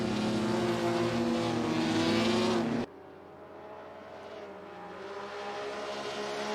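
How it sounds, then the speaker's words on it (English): A 1954 Grand Prix race car at Silverstone powers through a corner, its engine loud and close with a sustained high roar, then abruptly dropping to a more distant, quieter drone of cars. "Marimon very early on the power through there, trying to dance the car through the corner"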